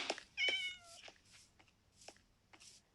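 A tamed cat in a video game meows several times, short distinct mews spaced across a few seconds, fairly close with quiet game ambience between calls.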